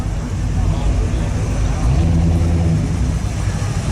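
Classic cars arrive at an outdoor car show with a steady engine rumble and passing vehicle noise, close and fairly loud, with people talking nearby.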